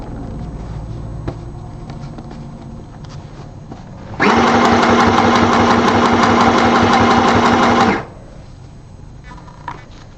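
A sewing machine runs one fast, steady burst of stitching for about four seconds while a bonnet is sewn and back stitched, loud and close over a quieter mechanical hum before and after.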